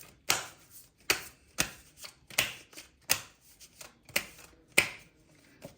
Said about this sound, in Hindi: और कार्ड्स निकालते हैं।